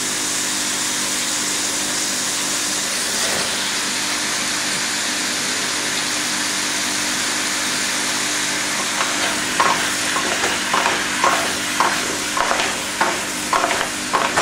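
Squash pieces go into a hot pan for pinakbet, a continuous frying hiss followed by a run of rhythmic stirring scrapes and knocks near the end, with no voices.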